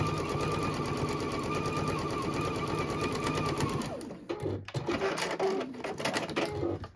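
Sewing machine stitching a quarter-inch seam on quilt patchwork, a loud steady whir that halts partway, followed by clicks and handling noises.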